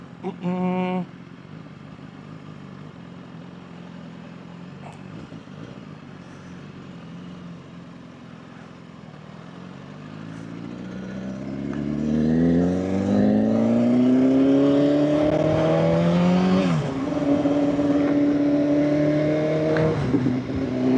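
A 2016 BMW S1000RR Gen 3 motorcycle engine idles quietly, then climbs through loud revving sweeps from about ten seconds on, pitch rising and dipping with throttle blips, close to the rider with a voice briefly at the start.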